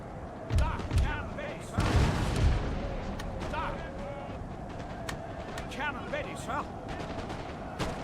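Artillery in Napoleon: Total War firing canister and round shot, with heavy low booms arriving in a couple of clustered volleys early on, then a steady battle din with scattered sharper cracks and faint voices underneath.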